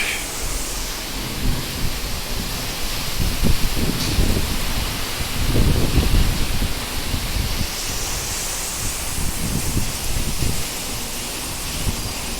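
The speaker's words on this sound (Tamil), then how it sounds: "பெரிய மழை தான்." Extremely heavy rain pours steadily in Mettupalayam, Coimbatore, Tamil Nadu, India, a loud continuous hiss with deep low rumbles swelling in the middle, close and unbroken throughout, with no talking.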